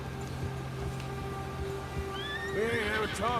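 A horse in the video game Red Dead Redemption 2, spooked by a bear, whinnies loudly with a rising, wavering call, over steady background tones and faint hoof clatter.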